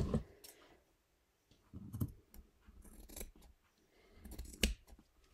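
Scissors snip paper for a handmade journal cover, with several bursts of crisp close clipping separated by short pauses and light handling sounds.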